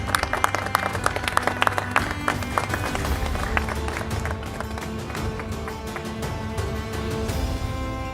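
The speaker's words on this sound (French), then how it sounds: "Est-ce qu'on peut applaudir s'il vous plaît?" An audience applauds at a ceremony honouring youth in a presidential tribute, with dense crowd clapping that holds steady throughout and sharper individual claps standing out early on.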